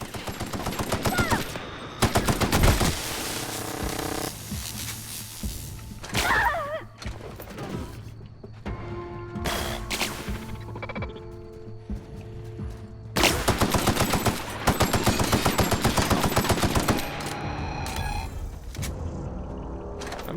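Automatic gunfire from a weapon in the video game The Outer Worlds, rapid bursts of shots with heavy thumps, loud and close, several bursts separated by quieter gaps, with a faint voice talking over the action.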